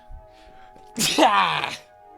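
A single sharp, loud sneeze with a breathy vocal release stands out against quiet background hum.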